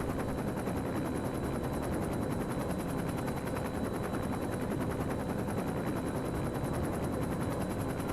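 A helicopter flies in the LEGO City Undercover video game, a steady, dense rotor chop with a continuous engine whine, loud and constant throughout.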